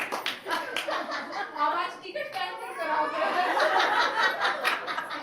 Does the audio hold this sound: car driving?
no